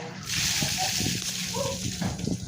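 Water is poured in a steady, loud rushing stream with sloshing, close by, while people talk over it.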